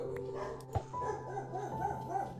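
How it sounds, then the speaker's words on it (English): Puppies yip and bark in quick, high-pitched bursts, fairly close, over a steady low background hum. "The puppies are great."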